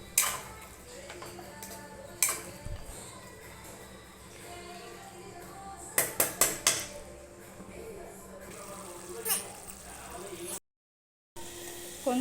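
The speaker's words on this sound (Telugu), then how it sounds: "కొంచెం చికెన్ మసాలా వేసుకొని ఇలా కలుపుకోవాలండి" A spoon works chicken and masala around a pot for gongura chicken, with scattered scraping clatters and clinks, a quick cluster of sharp taps near the middle, and a faint voice in the background.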